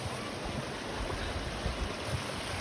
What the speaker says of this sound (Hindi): ये पानी ऊपर से बहते हुए आ रहा है